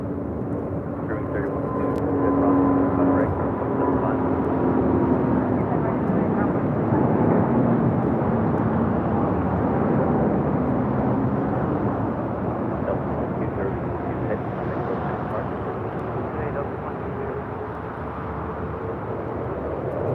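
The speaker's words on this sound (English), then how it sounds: "taking off to Atlanta on an A350-900" A Delta Air Lines Airbus A350-900 bound for Atlanta takes off at LAX, a broad, steady jet roar with engine whine running throughout while people talk over it.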